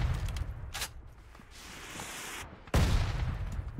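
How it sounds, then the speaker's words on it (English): Mortar rounds striking in a PUBG match, a loud booming blast with rumbling debris that swells again near the end, heard close over busy in-game noise. "Mortar!"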